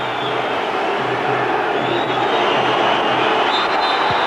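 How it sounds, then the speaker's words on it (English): A large football crowd at an Everton versus Bristol City FA Cup tie keeps up a steady, loud, restless roar throughout, with a few louder swells and no clear break in the noise. "the crowd are not happy about that last decision"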